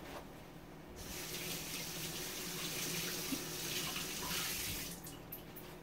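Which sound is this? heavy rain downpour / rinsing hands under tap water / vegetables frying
rinsing hands under tap water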